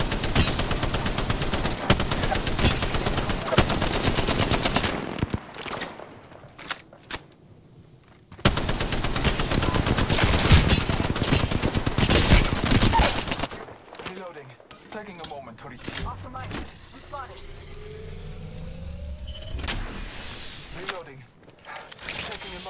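Gunfire in the video game Apex Legends during a duo match: loud, dense bursts of automatic shots in two long stretches, broken by quieter gaps with scattered reports and mechanical clicks, and voices at times.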